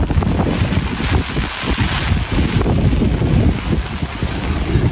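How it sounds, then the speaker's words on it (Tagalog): Strong wind buffets a boat out on the water during rain, a steady loud roar with gusty low rumble and broadband hiss throughout, no voices. "Mahangin."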